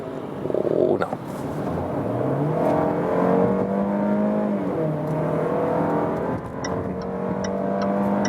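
A 2020 Range Rover Evoque with a 2-liter four-cylinder petrol engine and all-wheel drive accelerates hard from 50 to 100 km/h. The engine note rises steadily, dips at a gear shift, then climbs again, heard loudly from inside the car.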